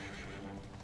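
A horse in Dragon Quest XI gives a short, faint neigh over a dense wash of game sound, with a hint of hoofbeats.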